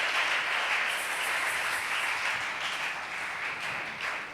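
A church congregation applauds during a Sunday service, a steady wash of many hands clapping together for several seconds at moderate level, with no voices over it.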